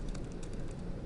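Quiet, continuous typing on a computer keyboard, a soft steady patter of keystrokes with no talking.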